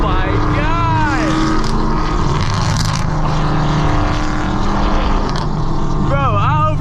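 Heard from the cabin on a night drive, a Chevrolet Camaro SS throbs with a heavy, unbroken exhaust roar, its pitch bending upward as the engine revs at the start and again near the end, with faint talk underneath.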